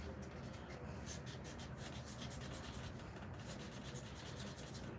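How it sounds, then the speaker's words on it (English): A pure silver coin ring, made from a one-ounce round, has its hole sanded smooth with a steady, continuous rubbing rasp that stays faint and even throughout, with no talking. "Just sand this hole up a little bit."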